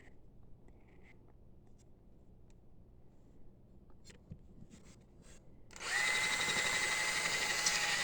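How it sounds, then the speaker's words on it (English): Quiet, faint rustling and taps, then an electric drill boring a hole with a bit suddenly whirs loudly and steadily at close range, in a crawl space. "Drilled a hole in there with that bit."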